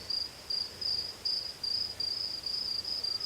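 A steady, shrill cricket trill carries in pulsing stretches over faint night ambience.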